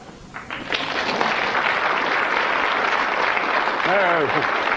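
Steady applause from the Countdown game show studio audience fills the room, and a voice briefly cuts in near the end.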